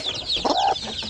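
Native chickens cluck in a short burst of soft, close calls over a busy background of chirping birds, no talking.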